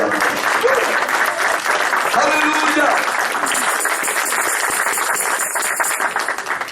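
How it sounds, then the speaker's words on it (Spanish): A church congregation applauds steadily throughout a sermon, with a voice shouting out over the dense clapping. "Démele un aplauso al Señor."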